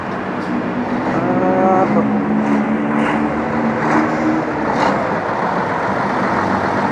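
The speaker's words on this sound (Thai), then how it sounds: "อันนี้คือรถประจำทาง" Steady, loud traffic rumble at the Pathumwan intersection in Bangkok, with a city bus engine droning among passing cars, continuous and close, without talk.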